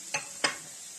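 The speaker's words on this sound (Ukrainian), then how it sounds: "Ось у мене смажиться цибулька" Chopped onion sizzles steadily in a hot pan, with two quick scraping stirs near the start; no voices.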